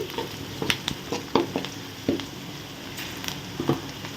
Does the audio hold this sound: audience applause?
no